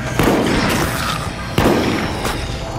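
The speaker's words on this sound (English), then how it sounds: "Wait, there are enemy gunfire over here." Heavy gunfire booms in Resident Evil Raccoon City, loud and close, with two big blasts about a second and a half apart over a rumbling, crackling battle backdrop.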